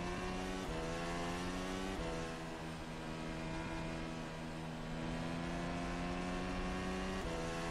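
A 2019-spec Formula 1 car in rFactor 2 lapping the Barcelona circuit, its engine a steady high-pitched whine that rises through the gears with brief shifts, loud and close throughout with no talk.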